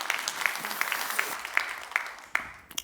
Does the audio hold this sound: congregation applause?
yes